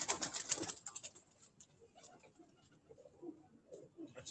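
A prized pigeon coos softly on a rooftop loft, low murmuring calls under faint wing movement and distant background noise, with louder activity early on.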